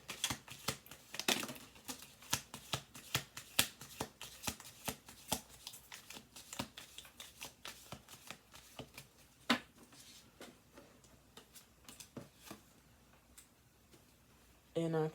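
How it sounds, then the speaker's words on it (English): Tarot cards are shuffled in quick riffling bursts of sharp flicks and patters, close and crisp, repeating over and over with brief pauses between shuffles. "Let's do 2 more shuffles."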